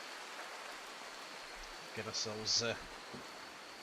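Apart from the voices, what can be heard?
rain in the video game RimWorld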